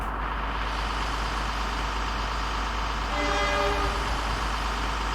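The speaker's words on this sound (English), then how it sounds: "That is a train." A freight train in the Workers & Resources: Soviet Republic city-building game rumbles with a steady engine drone, and a short two-tone horn toot sounds near the end over the continuous background hum.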